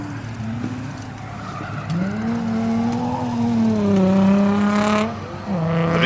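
Drift cars skid at a Drift Week event, tires squealing in long rising and falling tones over a steady engine roar, loud and close, with a brief dip before the squeal resumes.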